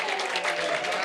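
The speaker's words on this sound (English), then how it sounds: "I think a little round of applause for little Ezra." A brief burst of applause from a small group for little Ezra, a short scatter of clapping heard over faint talk.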